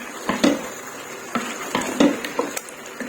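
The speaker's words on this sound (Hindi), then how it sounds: "इसको भी अच्छे से मिक्स करते हैं।" A spoon scrapes and knocks against a pot as garlic ginger paste is stirred into softened tomatoes: several sharp metallic clinks and taps in an irregular rhythm over a low background hiss.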